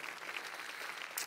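An audience at the Blockchain 24-7 London 2018 conference gives the speakers a steady round of applause, a dense, even wash of clapping that holds for the whole moment without letting up.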